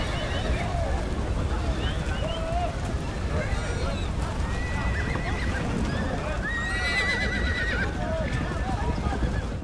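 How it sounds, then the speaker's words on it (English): Wild horses in Galicia neigh and whinny repeatedly over a constant rumble of hooves as the herd runs, loud and close throughout, with voices mixed faintly into the busy scene. "the hundreds of wild horses running down a mountain"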